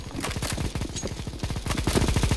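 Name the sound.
video game weapon firing continuously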